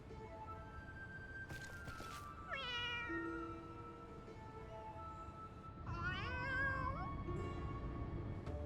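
A cat in the Final Fantasy XIV video game meows twice, each a clear, drawn-out call with rising and falling pitch, set against quiet in-game ambience and a few faint clicks.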